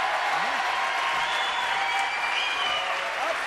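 Studio audience applause on a French television show, a steady, dense wash of clapping that holds at an even level throughout.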